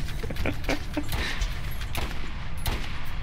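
Several sharp sniper rifle gunshots crack in quick succession amid game noise in Borderlands, loud and punchy over a constant background rumble.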